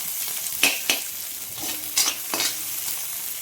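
Panch phoron spice seeds hitting hot oil in a pan, giving a steady close sizzle broken by several sharp crackling bursts and spatters, with no voices.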